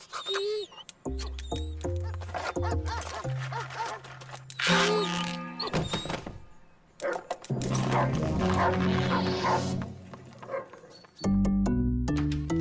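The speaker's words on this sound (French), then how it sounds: "tu as vu Kiki, le chien du concierge de Yacine" A small dog barks, yips and whimpers in a cartoon-style scene, with short repeated yaps and higher whining calls mixed among music and effects, fairly loud throughout.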